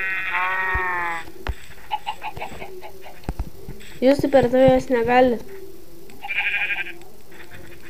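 Farm animal bleats and moos from the video game Minecraft, several short calls spread across the clip, a long tonal one near the start and a wavering burst near the middle, with a person talking quietly between them.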